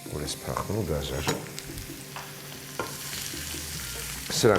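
Food fries in a pan with a bright, crackling sizzle and occasional stirring clatter, while a person talks over it at moderate distance.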